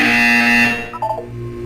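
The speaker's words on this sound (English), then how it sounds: "You will hear a buzzer." A loud, sustained electronic buzzer in the video game Portal 2 drones steadily for about three quarters of a second and then cuts off, leaving a low room hum and a few faint blips.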